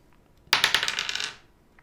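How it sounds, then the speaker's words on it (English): Dice are tossed onto a hard surface, giving a quick burst of clattering rattles that bounce and settle within about a second, close and alone. "I'm just gonna throw dice here"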